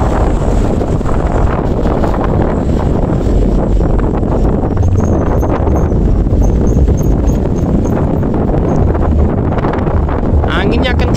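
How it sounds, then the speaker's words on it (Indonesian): Strong wind roars over the microphone on a mountain, a loud continuous buffeting rush with a faint voice buried beneath it. "Anginnya kenceng pol, anginnya kenceng pol."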